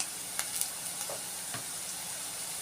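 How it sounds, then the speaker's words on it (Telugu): Mustard seeds, cumin and onions fry quietly in hot oil, a soft continuous sizzle broken by a few small pops and crackles, with no voices over it. "ఆవాలు, జీలకర్ర. ఇవి బాగా వేయించుకోవాలి. ఉల్లిపాయలు వేగినాయండి."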